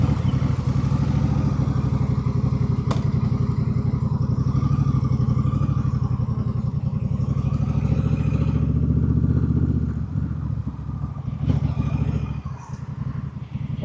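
A motorcycle cruises slowly along a 70 km/h road, its engine a steady, continuous drone close by with some wind rush and a few light clicks, no talking.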